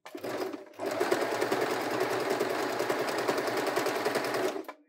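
Fortuna F05 sewing machine stitching fabric in a steady, even run of several seconds after a brief start and pause, close and fairly loud, with no one talking.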